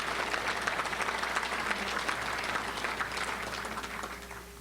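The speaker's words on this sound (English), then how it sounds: "let's give all of our sponsors a big round of applause" A business luncheon crowd gives a sustained round of applause for event sponsors, dense steady clapping that fills the room for several seconds before gradually thinning out.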